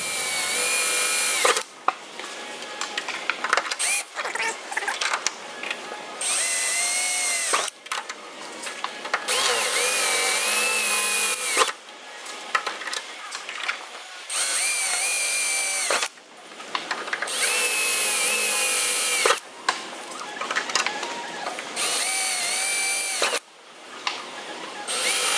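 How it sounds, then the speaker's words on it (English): A power drill bores holes through the forward spar of an aircraft horizontal stabilizer, with repeated whining bursts of several seconds each separated by short pauses, loud and close. "Finished up on drilling out the holes through the forward"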